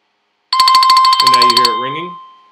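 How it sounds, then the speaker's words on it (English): A Tawk.to website chat notification rings with a rapid, bright electronic trill followed by a short descending melodic tone that fades out, loud and close with no talk. "Ringing."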